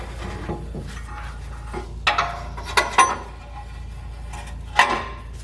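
A heavy metal oil pan from a Ford 6.7 engine is worked out over a truck frame, giving a few close, sharp metallic clanks and scrapes amid quiet shop background.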